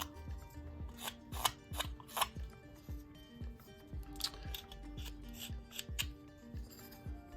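A sharp knife carves a simple wooden Santa ornament, trimming the edge from hat to beard in a steady series of short, close scraping cuts, each stroke a quick crisp shave of wood, with no talking.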